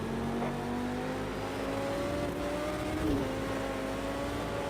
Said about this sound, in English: Watch those revs for a few laps until it gets under control.